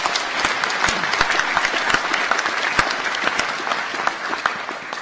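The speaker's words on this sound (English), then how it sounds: "Let's give ourselves applause." A large audience of graduates and guests claps at a university winter graduation ceremony, a loud, sustained roll of applause with sharp individual claps standing out throughout.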